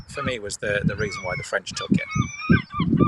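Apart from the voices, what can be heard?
seagulls calling at Dover Castle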